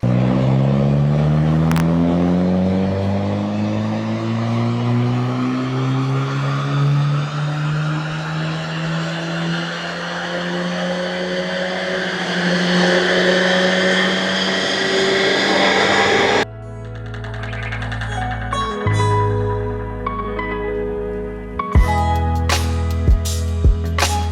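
An Audi car engine on a dyno revs hard and loud, its pitch climbing steadily through a long pull before cutting off, followed by a few shorter revs and sharp blips up close.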